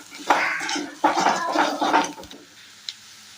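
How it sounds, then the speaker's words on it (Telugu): A spoon clanks and scrapes inside a metal pot while salt and chili powder are stirred into a tomato dal with ponnaganti greens, giving a few loud close bursts of clatter that fade to quiet. "అలాగే రెండు స్పూన్ల ఉప్పును కూడా వేసుకుందాము బాగా కలిపేసుకుందాం దీన్ని"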